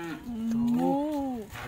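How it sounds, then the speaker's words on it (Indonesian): A single cow on a farm gives one loud, close, drawn-out moo lasting over a second, with its pitch rising and falling. "Tuh, ada sapi nak."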